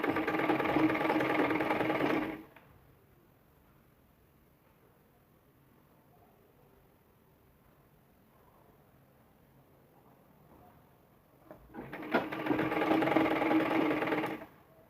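A sewing machine stitches piping onto a blouse, its motor whirring in a short steady burst, then falling quiet for several seconds before running again.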